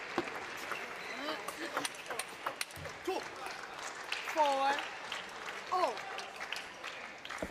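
Applause in a table tennis arena during a match, a light crowd clapping in the background with a commentator talking over it and occasional sharp squeaks.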